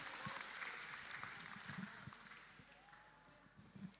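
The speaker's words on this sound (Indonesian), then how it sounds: "Tepuk tangan untuk kita untuk sore hari ini." At a futsal tournament opening in Solo, a crowd gives a brief round of applause, the clapping faint and distant in a large hall and fading out after a few seconds.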